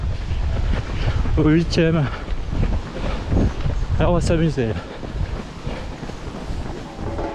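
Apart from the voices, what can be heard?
wind blowing into the microphone, headwind during Lyon marathon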